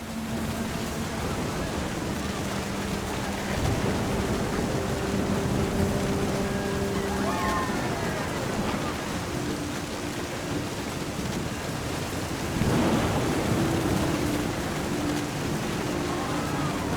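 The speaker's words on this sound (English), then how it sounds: "Thunder sounded much too close and full of angry power." A rainstorm with wind in the video game What Remains of Edith Finch makes a steady, close hiss of downpour throughout, with soft sustained musical tones drifting faintly underneath.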